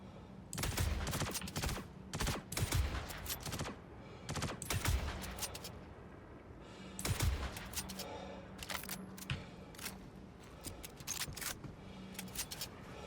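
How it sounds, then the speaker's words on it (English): Star Citizen gunfire crackles in rapid bursts and single shots, some loud and close, others fainter, with short quiet gaps between volleys. "I hear the gunshots."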